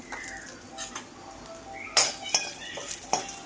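Potato slices stirred with salt, pav bhaji masala and coriander powder in a pan: soft frying hiss with light scraping, then sharper clinks and knocks of a spoon against the pan in the second half.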